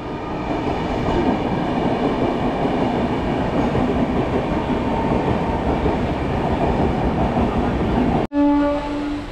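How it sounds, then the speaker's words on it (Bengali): An express train bound for Howrah rumbles past at close range, a loud, steady roar of wheels and carriages with faint clickety-clack that cuts off abruptly near the end, leaving quieter tonal hum. "এই হচ্ছে জ্ঞানেশ্বরী এক্সপ্রেস যাচ্ছে হাওড়া।"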